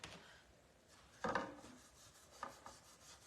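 A sponge dabs paint onto a 3-D wooden Santa Claus sign, giving faint, scattered soft pats and rubs, with one firmer dab standing out amid quiet room noise.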